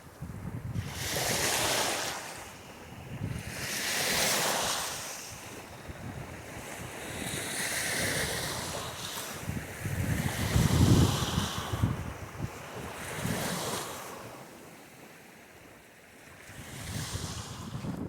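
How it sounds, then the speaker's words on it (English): Strong, chilly wind gusting outdoors at a truck campsite in Virginia, buffeting the microphone in loud rolling surges that rise and fall every few seconds, with no voices. "So when it's super windy and a little bit chilly out"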